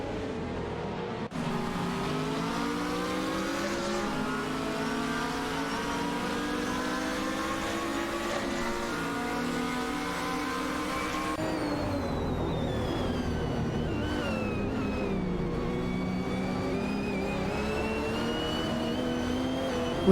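Engines from a Panoz Abruzzi GT2 and a Dodge Viper GT2 in a racing video game drone steadily at high revs, with pitch rising and falling through gear changes and a brief tyre skid, with no voices.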